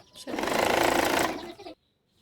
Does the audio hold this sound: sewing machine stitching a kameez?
yes